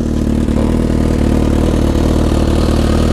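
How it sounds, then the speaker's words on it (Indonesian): A Suzuki GSX-R1000 sport motorcycle with a custom exhaust idles steadily with a deep, throaty rumble and slight clatter from the exhaust, close and loud throughout. "Dia pakai knalpot custom, tapi bagus, suaranya enak"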